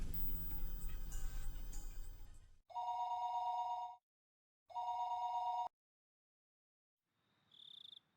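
A telephone rings twice in the Higurashi When They Cry video game, two steady electronic bursts of about a second each separated by a pause, after a busy musical passage and before a faint tone near the end.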